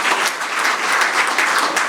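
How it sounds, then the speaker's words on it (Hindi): Dense applause from a crowd at a Hindi poetry gathering, steady and continuous throughout the short stretch with no voices over it. "एक बार तालियां बजा दीजिए इनके लिए।"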